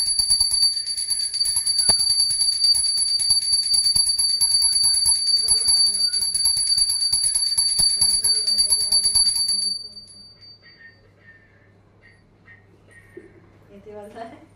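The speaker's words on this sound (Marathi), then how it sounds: "घंटा मोठा" A large bell rings steadily and loudly in quick, even strokes for about ten seconds during home Krishna Janmashtami worship, then stops, leaving quieter voices and household sounds.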